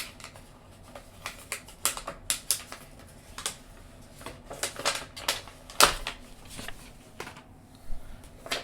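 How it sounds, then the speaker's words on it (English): Backing is peeled from sticker cardstock in a quick series of sharp, close ticks and crackles, irregular and fairly loud against a quiet room. "now we're just going to peel our sticker cardstock off here."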